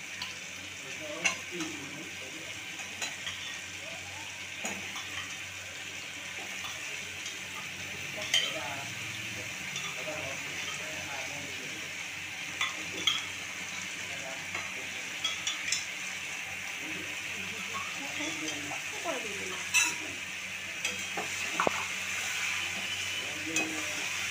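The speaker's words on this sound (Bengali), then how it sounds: "মাংস কষাচ্ছি, সিদ্ধ করা মাংসটা আমি ভালো করে এখন করতে একটু সময় লাগবে" Pressure-boiled mutton stirred and fried in a pan, a soft continuous sizzle with scattered scrapes and clinks of the spatula against the pan, quiet and close.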